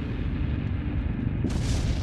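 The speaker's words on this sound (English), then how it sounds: "could glare even stand up to terrorist attacks, like these bomb explosions?" A bomb blast set off in a test against an aircraft luggage container made of glare composite gives a heavy, rumbling boom that holds throughout and swells into a brighter, harsher burst near the end.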